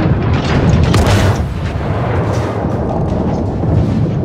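Naval gunfire in a World of Warships co-op battle aboard the Katori, heavy booming salvos blending into a dense rumbling roar, loud and sustained for several seconds without speech.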